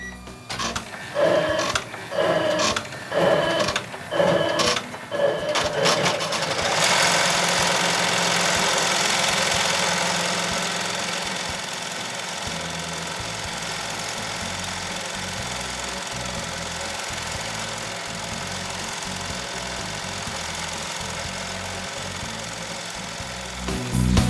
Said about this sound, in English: we're ready to begin stitching the tack down.